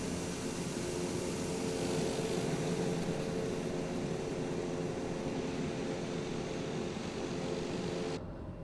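A TBM850 turboprop taxis in Microsoft Flight Simulator, its engine a steady, even drone with a constant hum that holds unchanged throughout before dropping away abruptly at the very end.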